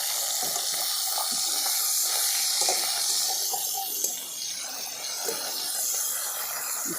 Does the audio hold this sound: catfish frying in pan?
yes